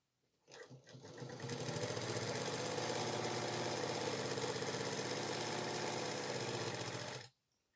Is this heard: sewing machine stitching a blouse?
yes